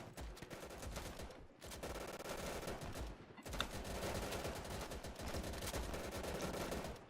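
Sustained machine gun fire and gunshots in Easy Red 2, a World War II shooter, on a custom Southern France map. The shots come as dense continuous bursts with a short pause near the middle, loud and close, with no speech.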